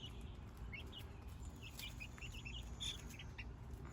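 Young backyard chickens, three to six weeks old, peep and cluck faintly outdoors, with scattered light chirps over a steady low rumble of background noise.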